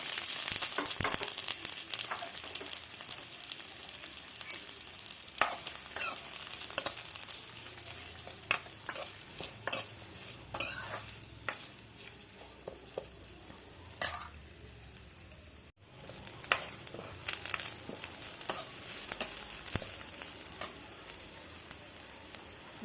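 Onions fry in a couple of spoons of oil with a continuous bright sizzle, punctuated by spoon scrapes and clinks against the pan, close and steady with a short dip midway.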